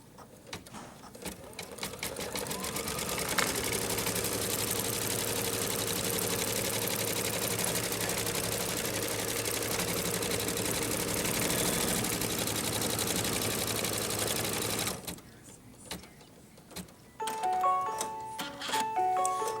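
An embroidery machine sews a placement stitch on a quilted mug rug with a long, steady mechanical whir and rapid needle ticking, ending abruptly with scattered clicks and short beeps.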